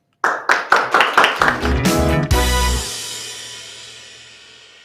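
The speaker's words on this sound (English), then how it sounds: "And please, Kamil, a big applause." Audience applause at a live corporate talk: a few loud, close claps quickly build into a short burst of clapping, then fade out into a long decaying tail.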